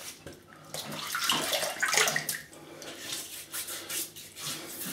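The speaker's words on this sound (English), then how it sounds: "Let me just wet my face." Water splashes and sloshes as a man wets his face with his hands before a wet shave, in a series of close, uneven splashes with trickling in between.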